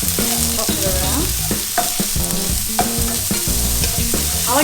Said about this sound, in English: Our pre-chopped ginger and our garlic. We'll just get that all fried.